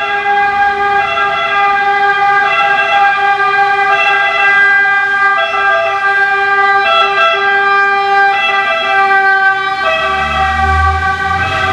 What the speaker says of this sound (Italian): un po' come questa ambulanza